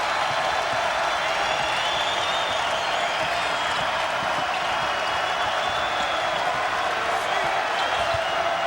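A basketball arena crowd roars after a Gamecocks layup in a Tennessee versus South Carolina game, a steady, broad wash of cheering and applause with a commentator talking over it.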